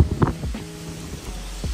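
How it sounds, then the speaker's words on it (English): Gusty wind buffets the microphone beside a fishing pond, a low rumbling roar with uneven swells that rises and falls continuously through the short stretch, no talking over it. "it is getting really windy"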